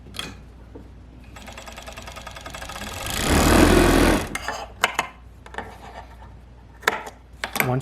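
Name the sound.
serger stitching fabric edge closed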